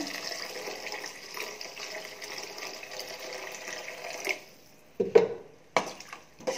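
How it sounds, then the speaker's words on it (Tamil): A steady stream of water pours into a pan of paneer butter masala for a few seconds, then stops, followed by several sharp clanks and knocks of cookware. "இப்போ தேவையான அளவு தண்ணி ஊற்றிக்கலாங்க"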